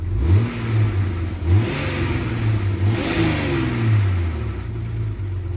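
An old Jeep engine with two cracks in the exhaust manifold revs up and down in repeated swells, rising and falling in pitch, loud and close with no talking.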